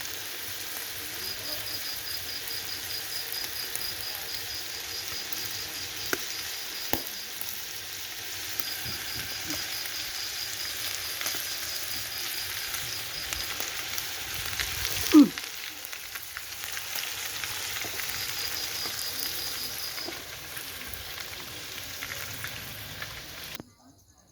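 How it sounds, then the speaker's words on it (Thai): Pork liver stir-fried with mushrooms and holy basil, a continuous moderate sizzle with scattered stirring clicks and one sharper knock partway through, running steadily until it cuts off at the end. "ผัดกะเพรา กะเพราใส่ตับใส่เห็ด"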